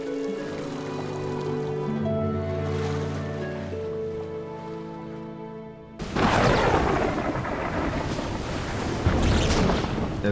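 A storm scene from the animated film The Snail and the Whale: soft tonal music plays, then gives way abruptly to a loud, sustained roar of wind and crashing sea that fills the rest of the clip.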